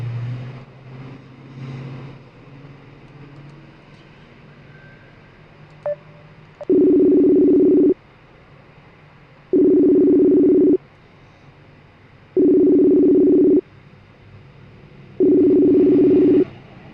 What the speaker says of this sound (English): Come on, Stevie, answer the phone.